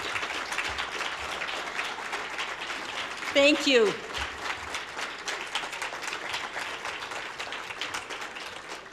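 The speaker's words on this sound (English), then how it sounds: "If I start talking, you'll probably stop clapping" An audience applauds an award recipient at an honors ceremony, a steady dense clapping that runs throughout while someone briefly speaks over it near the middle.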